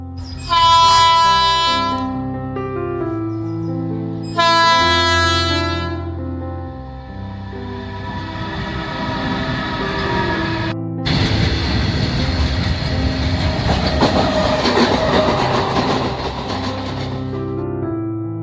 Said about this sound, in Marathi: आता ट्रेन येणार असल्यामुळे हे फाटक बंद आहे